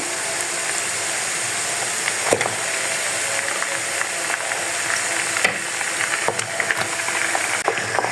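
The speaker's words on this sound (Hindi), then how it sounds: "चिकन को हम लहसुन अदरक के पेस्ट में अच्छी तरह फ्राई कर लेंगे।" Chicken frying in garlic ginger paste for a namkeen karahi, a steady broadband sizzle with occasional stirring clicks and scrapes, close and continuous with no talking.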